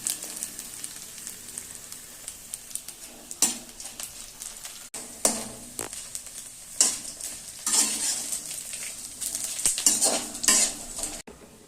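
Papad frying in oil hisses with a continuous close sizzle that grows busier toward the end, while a spatula scrapes and clatters against the pan in irregular strokes, with no voices.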